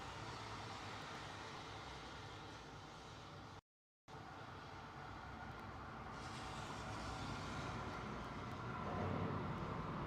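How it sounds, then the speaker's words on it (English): A British Airways Boeing 777 taking off at Heathrow, heard as a faint, far-off broadband roar that swells slightly toward the end, broken by a short gap of silence. "the 777 with a delay, taking off"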